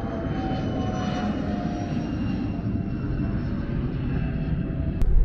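An airplane taking off at Burbank airport, a continuous engine drone with steady rumble and faint tonal whine, moderately distant, ending with a brief sharp click.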